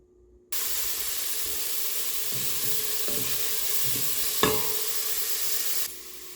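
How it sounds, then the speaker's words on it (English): Onion and garlic fry in a little oil in a pot on medium heat, a bright steady hiss starting suddenly after a brief quiet, with a few soft stirring clinks and one sharp knock near the end. "while the onion and garlic are doing their thing back there on medium heat"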